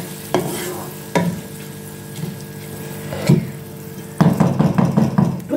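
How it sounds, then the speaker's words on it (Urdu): Rice for wedding-style degi zarda sweet rice is lightly sautéed in a pot, giving scattered spoon-against-pot knocks and soft stirring scrapes with a faint sizzle, ending in a louder burst of rapid stirring clatter. "بس ہلکا سا ان کو ہم تھوڑا سا سوٹے کریں گے،"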